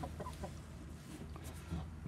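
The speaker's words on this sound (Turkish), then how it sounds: "Bunlar da tavuklar arkadaşlar." Hens cluck softly in a farmyard coop alongside roosters, a few short low clucks scattered over faint background noise, with one slightly louder call near the end.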